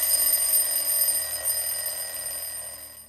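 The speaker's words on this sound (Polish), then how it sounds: "W tym momencie doktor został obudzony przez swój budzik" An alarm clock rings to wake a doctor, a continuous bright electronic ringing that holds steady and then slowly fades, heard alone with no talk.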